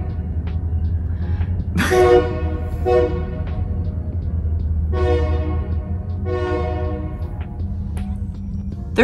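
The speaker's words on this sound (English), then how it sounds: "There's a train, obviously." A train passes nearby and sounds its horn in a series of loud blasts, long and short, over a steady low rumble of the rails.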